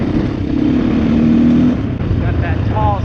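A KTM 450 EXC dirt bike, left sitting for six years and just revived with a carburetor fix, runs at a steady close idle with a low thrumming drone, slightly easing off partway through.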